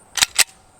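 Two sharp, close gunshots crack in quick succession from a Smith & Wesson M&P pistol firing 230-grain solid cast .45 ACP rounds at a truck hood, each ending abruptly and followed by quiet.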